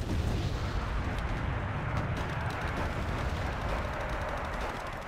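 Artillery indirect fire in Wargame Red Dragon rumbles as a dense, continuous barrage of distant booms and blasts, heavy low-end wash throughout with no talk.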